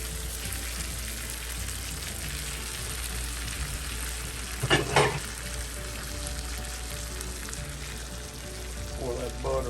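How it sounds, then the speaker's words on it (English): Melted butter poured over hot cat head biscuits sizzles and crackles steadily in a Southern breakfast kitchen, a soft continuous frying hiss with a brief louder burst midway. "Pour that butter on there and let it kind of soak on in there. It sounds like it's kind of cooking in."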